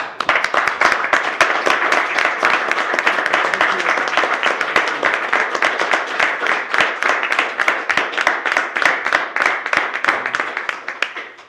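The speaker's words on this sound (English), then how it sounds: "I'd like to give a standing applause to Carl Ward." Council meeting attendees giving a standing round of applause, dense steady clapping from a room of people that holds for about eleven seconds and tapers off at the end.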